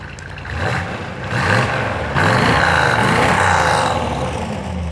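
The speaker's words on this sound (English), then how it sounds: "it's got beautiful sound and dual exhaust." A deep, rumbling V8 engine of a 1972 Corvette Stingray with dual exhaust idles and revs in swells, throaty and loud at close range, with no talking over it.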